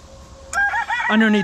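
Backyard homestead chickens near their coop let out a brief loud crow mixed with clucks, close by and over quiet surroundings.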